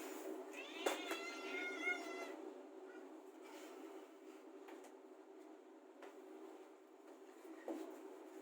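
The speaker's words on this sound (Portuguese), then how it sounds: "A minha gatinha tá miando aqui." A pet cat gives a few drawn-out meows indoors, loudest near the start and then trailing off into quieter rustling and soft knocks. Nobody speaks.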